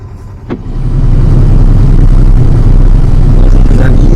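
A sailboat's motor runs steadily at sea during a Corsica crossing, a constant low drone with a brief knock near the start, loud and continuous throughout.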